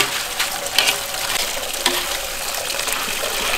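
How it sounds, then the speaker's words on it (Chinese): Crabs are being washed in running water, a steady splashing trickle and gush throughout with a few brief sharper splashes, fairly close and unaccompanied by talk. "把这个螃蟹炸一下，把这个发财蟹清洗一下，"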